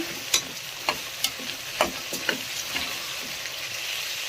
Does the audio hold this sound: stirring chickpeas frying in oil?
yes